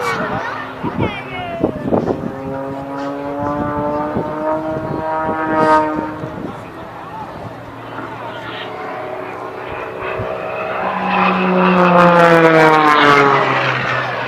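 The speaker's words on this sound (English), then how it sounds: "we're going to see the squirrel cage, and each of them demonstrating the capabilities of their respective biplanes" Propeller biplanes perform aerobatics at the 2017 Riverside Air Show, their engines droning and rising and falling in pitch as they pass, loud and continuous beneath an announcer speaking over the public address.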